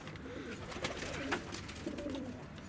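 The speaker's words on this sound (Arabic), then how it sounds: "هاي الطيور" Pigeons coo softly in a steady, murmuring chorus over low background noise, with a few clearer calls rising out of the flock.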